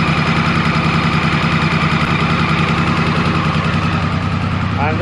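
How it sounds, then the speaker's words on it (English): A 1994 Triumph Sprint 900 motorcycle engine idles steadily and evenly after carburettor tuning, a continuous close, loud drone with a smooth, regular exhaust beat and no popping. "as you can hear, it's the engine just sounds smoother. We're not getting popping from the exhaust anymore"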